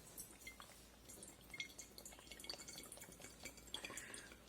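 Vinegar trickles from a container into a small bottle, producing soft, close splashes and drips that run unevenly for a few seconds at low volume.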